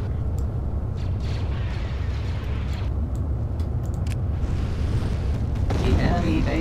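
Artillery shelling in the Star Wars Empire at War Forces of Corruption game with the Republic at War mod, a continuous loud low rumble of explosions and booms rolling on throughout, dense and unbroken with no distinct gaps.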